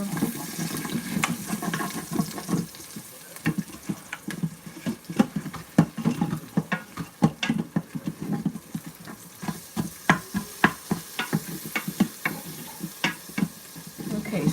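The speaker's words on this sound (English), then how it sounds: "it's sauteing away here" Urad dal curry ingredients sautéing in a pan, a low frying sizzle broken by a rapid, irregular series of spatula scrapes and taps against the pan, close and fairly quiet.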